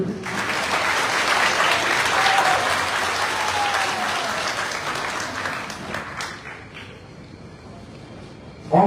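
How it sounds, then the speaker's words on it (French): Sustained applause from a large audience fills a hall at a political party congress, dense and steady for several seconds before thinning and fading out near the end. "Applaudissez-le."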